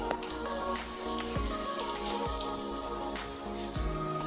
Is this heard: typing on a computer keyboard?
no